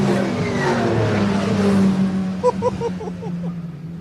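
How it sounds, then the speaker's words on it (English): MG Cup race cars power beneath a trackside gantry, a loud sustained engine roar with pitch sweeps as several cars pass close by, no talk over it. "The gantry shakes as they power beneath us."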